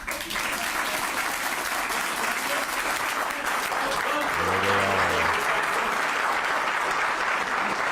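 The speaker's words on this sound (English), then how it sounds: "And they're all clapping" Audience clapping after a denial speech, a loud continuous roar of applause lasting the full eight seconds, with a short voiced sound rising briefly through the middle.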